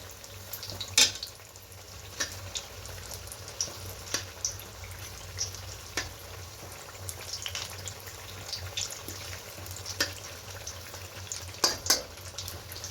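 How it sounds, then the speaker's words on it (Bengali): Beguni, batter-coated eggplant slices, bubbling in oil in a pan on a gas flame, giving a low continuous sizzle broken by sharp pops and occasional utensil taps, close by and with no voices. "বেগুনিগুলো ভাজা হয়ে গেছে, এবার এগুলোকে তুলে নেব।"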